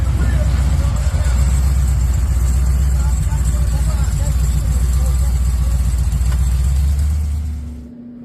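A supercharged LS V8 idles in a 1979 Chevrolet Malibu, giving a loud, close, lumpy rumble with a steady choppy pulse for several seconds before it suddenly cuts off, leaving faint noise.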